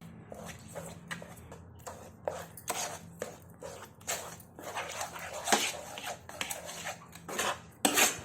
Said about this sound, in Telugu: కొంచెం చల్లారిన తర్వాత 1 స్పూన్ ఉప్పు వేసుకుని బాగా కలుపుకుందాం గరిటెతో